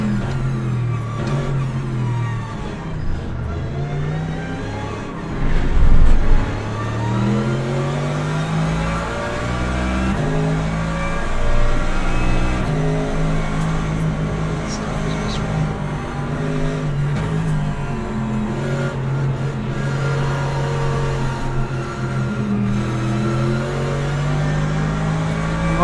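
Mercedes race car in the sim racing game Le Mans Ultimate, its engine droning steadily throughout with shifting pitch as it revs and changes gear, a brief louder burst near the start, no talk over it.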